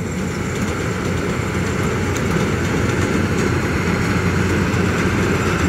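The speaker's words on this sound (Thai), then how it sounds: "เครื่องยนต์102แรงม้าครับผมใช้เครื่องยนต์ของคัมมินนะ4สูบเทอร์โบ Direct Injection ครับผมระบายความร้อนด้วยน้ำนะครับ" A rice combine harvester with a 102 hp four-cylinder turbo direct-injection water-cooled Cummins engine runs with a loud, steady, close diesel drone and rumble. No voices are heard.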